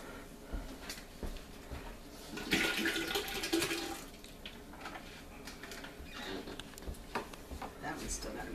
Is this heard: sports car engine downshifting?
no